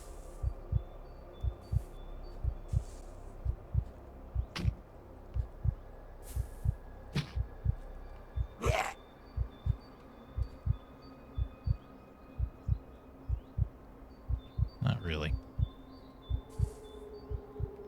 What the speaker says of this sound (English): Heartbeat maybe starts a little too soon.